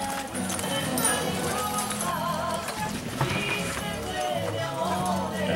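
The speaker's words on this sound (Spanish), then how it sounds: "El caballo se enderezó a la entrada de la zona de postura" Horse hooves clip-clop on the ground of a rodeo arena, a busy scatter of clattering steps mixed with crowd noise and people talking in the background.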